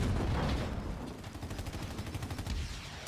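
Sniper and mixed gunfire crackle in a Halo Wars 2 battle, a dense, fairly quiet stream of rapid shots and distant explosions rolling on continuously without pause.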